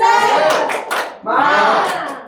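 A class of students performs the tepuk semangat rhythmic clapping chant, several quick claps in a burst at close range, mixed with young voices.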